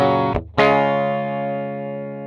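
An overdrive and distortion algorithm produces a loud, buzzy distorted tone that cuts out briefly, then restarts and sustains as a dense, harmonically rich drone that slowly fades.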